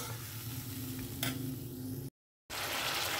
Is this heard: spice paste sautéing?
yes